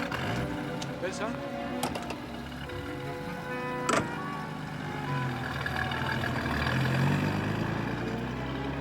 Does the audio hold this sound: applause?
no